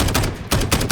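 Gunfire in Call of Duty on the Crash map, a quick burst of two loud, close automatic shots about half a second apart, each with a short ringing tail.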